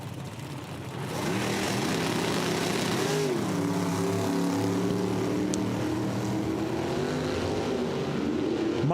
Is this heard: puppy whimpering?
no